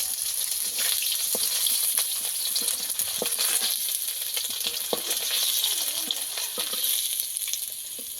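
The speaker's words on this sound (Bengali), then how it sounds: "এই মাছগুলোও ভাজা হয়ে গেছে" Fried kuche fish (swamp eel) are lifted out of hot oil. Continuous sizzling runs through the whole clip, broken by scattered clicks and scrapes of a utensil against the pan.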